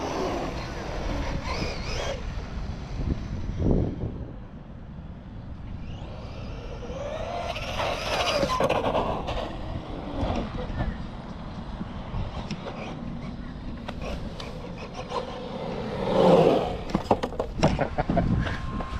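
An Arrma Quake 223S RC monster truck makes quick speed passes in a parking lot, its electric motor whining up and fading as it goes by, with outdoor background noise and someone talking.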